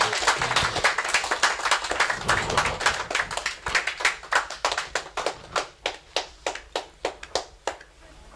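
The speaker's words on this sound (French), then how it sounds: "Acclamez pour Jésus, bien aimé." A church congregation at a 25th wedding anniversary celebration claps for Jesus, first a dense burst of hands with voices underneath, then thinning into a steady, evenly timed rhythmic clap that grows sparser toward the end.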